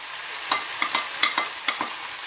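Pork offal (asadura) frying in a pan with garlic and onion, with a steady sizzle and several stirring scrapes at intervals, close and moderately loud, with no voices.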